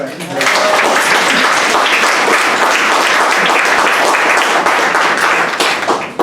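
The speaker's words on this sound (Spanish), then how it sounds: "Un aplauso para él." Dense, sustained applause from a large audience at an Amazon Synod church gathering, loud and steady for several seconds before tapering at the end.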